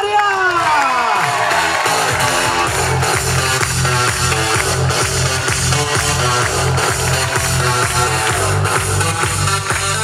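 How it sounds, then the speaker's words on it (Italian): Audience at a Peter Pan musical breaks into loud, sustained applause mixed with cheering and shouts, a dense crowd roar filling the room for the full stretch. "Signore e signori, un forte applauso per la nostra Wendy Ilaria."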